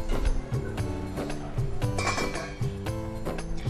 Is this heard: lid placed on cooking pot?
yes